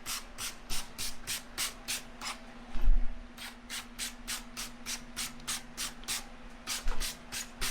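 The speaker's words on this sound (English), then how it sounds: "Alright, let's give it a little spray." Short hissing aerosol bursts of adhesive remover sprayed onto the mat tray of a Kawasaki SXR 1500 stand-up jet ski, repeating rapidly and evenly, close and fairly quiet, with a faint steady hum underneath and no talking.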